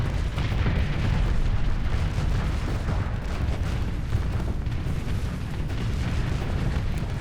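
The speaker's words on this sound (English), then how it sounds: "I keep forgetting I can broadside in this thing." A ship's broadside guns fire during space combat in Starsector, a dense, continuous booming roar of overlapping blasts that stays loud and steady throughout.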